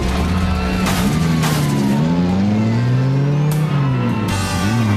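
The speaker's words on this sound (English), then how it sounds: "The driver picks up speed." A car speeding up during a police pursuit on a narrow back road, engine revving and climbing in pitch with gear shifts, loud and close, mixed with other road noise and no speech.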